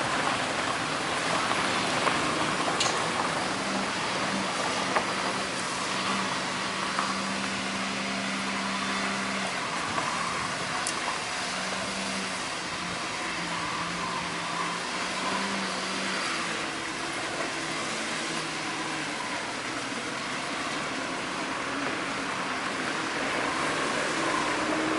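Suzuki Carry straining up a slippery uphill slope with its wheels spinning until they smoke, the engine's steady, labored drone held throttle-on beneath a broad hissing wash of tire and road noise, continuous and moderately loud.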